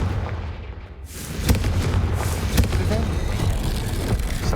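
A Confringo blasting spell in Hogwarts Legacy erupts as a booming explosion over a rumbling battle backdrop, with further thuds and blasts following and voices talking amid the noise.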